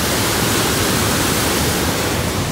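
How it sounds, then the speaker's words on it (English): A waterfall fed by glacier melt roars as a loud, dense, unbroken wash of white noise with no pauses, filling the whole stretch with no voices audible. "Glaciers melting above us and waterfalls flying down"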